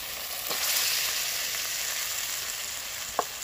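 Potato and cauliflower pieces sizzle and fry steadily in hot spice masala, a dense continuous hiss with a couple of brief stirring scrapes, close and alone without talk.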